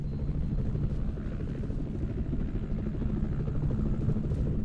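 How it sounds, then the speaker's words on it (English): Helicopter in the video game F.E.A.R. 2, a steady loud rotor drone with engine rumble that holds throughout, no speech over it. "Helicopter."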